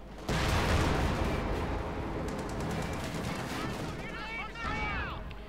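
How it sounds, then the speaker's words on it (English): Rifle and machine-gun fire in a Company of Heroes 2 battle: dense, continuous loud volleys with bursts and whistling, explosive overtones throughout, as riflemen engage an armored unit. "Pack 40 under fire from the riflemen"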